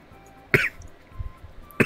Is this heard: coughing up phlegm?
yes